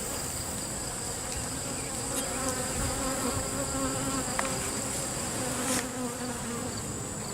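Dense, steady hum of many honeybees buzzing around a backyard hive, close and continuous with individual bees droning past.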